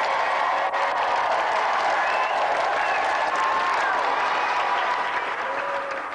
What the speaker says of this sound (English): let's have a final round of applause for two brilliant competitors